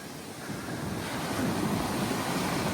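Ocean wave breaking on Albufeira beach in Portugal, a loud close roar of surf and rushing water that builds and holds steady, with wind buffeting the microphone.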